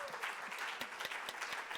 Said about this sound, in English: Please join me in giving Shana a round of applause for sharing all of her thoughts.